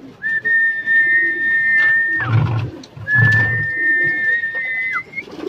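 Low, throaty pigeon coos come in two short bursts while a long, steady whistle holds across most of the stretch, stopping briefly between them, outdoors among a flock of released pigeons.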